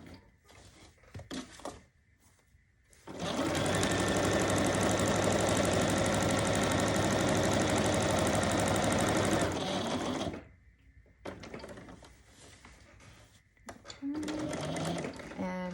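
A sewing machine stitches a thick seam on a half apron, starting with a few short bursts, then running in a loud, steady mechanical whir for several seconds before stopping, with a voice talking around the stitching.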